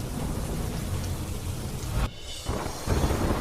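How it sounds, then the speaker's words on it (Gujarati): Rain falls steadily with wind in a storm, a constant loud wash of drops with a low thunder rumble and a brief dip midway. "પવન અને વીજળીના કડાકા ભડાકા સાથે પડ્યો વરસાદ"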